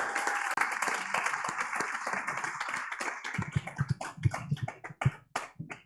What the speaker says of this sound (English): One big round of applause for Kat.